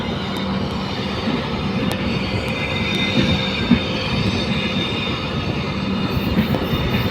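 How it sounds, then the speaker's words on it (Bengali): Heard from on board, the Panchagarh Express rolls slowly along the Ishwardi bypass with a steady, loud rumble of carriages, grinding wheel noise and occasional sharp clicks from the rails. "পঞ্চগড় এক্সপ্রেস ধীরে ধীরে ঈশ্বরদী বাইপাসে যাচ্ছে"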